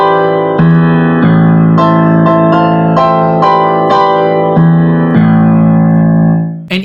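A short instrumental melody from Wicked with a dark, twisted feel, a contorted version of the main theme, rhythmic notes over sustained low tones, played alone and fairly loud.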